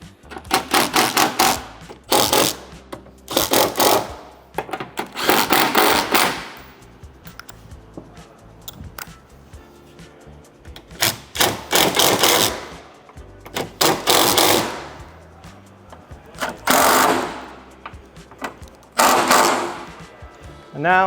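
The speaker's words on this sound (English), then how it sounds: "now I'm going to tighten up all the rest of the bolts" Bolts being tightened on replacement 180-degree rear door hinges of a 2019+ Mercedes Sprinter van, a tool buzzing in repeated bursts of one to two seconds with short pauses between, close and fairly loud.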